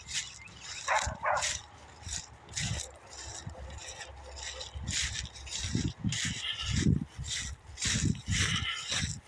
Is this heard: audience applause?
no